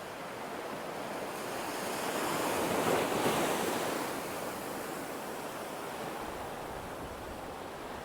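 Sea waves wash over a rocky island shore at Seaton Sluice as the tide comes in, a loud, steady roaring surf that swells to a peak midway, with some wind.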